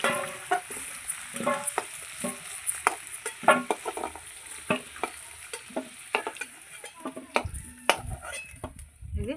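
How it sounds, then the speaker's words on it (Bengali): Potatoes, fried with spice powder until reddish, sizzle steadily in hot oil in a kadai. Repeated metal scrapes and clinks of a spatula stir them and lift them out, sounding close with no talking. "আলুগুলো আমি লাল লাল করে ভেজে নিয়েছি এবার তুলে নিচ্ছি"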